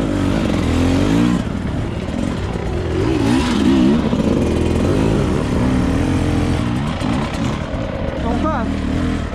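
A 2020 Beta 300RR two-stroke enduro motorcycle engine revs hard during hard enduro training, loud and close, with repeated rising and falling throttle blips and a faint voice underneath.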